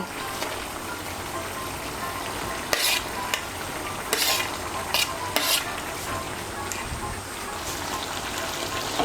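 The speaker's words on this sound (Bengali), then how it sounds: "বেগুন আর করলাটা মিশিয়ে নেব।" Fried eggplant and bitter gourd are stirred into boiled vegetables (papaya, green banana, pointed gourd, drumsticks) in a pot for Bengali sukto, with a steady loud sizzle and a few brief scraping strokes of the spoon.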